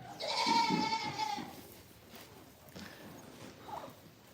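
A goat on a goat farm gives one loud, quavering bleat close by, then weaker calls and farmyard shuffling follow, with a short cry near the end.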